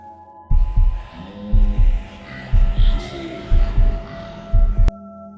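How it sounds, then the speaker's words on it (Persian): A heartbeat sound effect in a horror story, deep double thumps repeating in a slow steady rhythm, loud and close, over a low eerie droning hum. "فقط صدای تپش قلبم و زمزمه ها رو میشنیدم"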